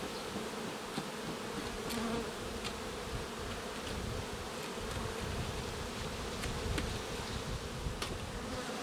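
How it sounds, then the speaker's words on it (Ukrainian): Honey bees buzz continuously in a dense, droning swarm at a Ukrainian-Alpine hive just covered during a queen replacement, quiet but close, with occasional faint clicks over the steady hum. "Прикрию вулик, щоб трішки заспокоїлися бджоли."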